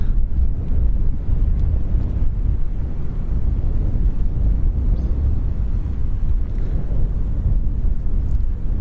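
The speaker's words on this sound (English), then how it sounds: "the wind's just picked up and it's not from a good direction" A strong gust of wind buffets the microphone at Lanzarote Airport in the Canary Islands, a loud, steady low roaring rush that holds throughout with no voices.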